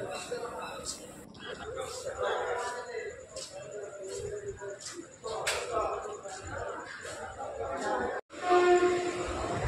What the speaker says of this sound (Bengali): তো ট্রেনটা এবারে ছাড়বে আমাদের।